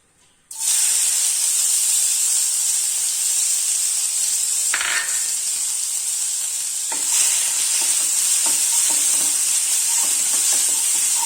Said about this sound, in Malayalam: അത് എണ്ണയിലേക്ക് ഇടുക.